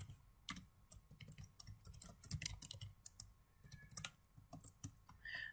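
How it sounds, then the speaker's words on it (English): Fairly quiet typing on a computer keyboard, a steady run of soft, close key clicks with uneven rhythm and a few short pauses, no speech over it. "To check the version of Seaborn, you can type this."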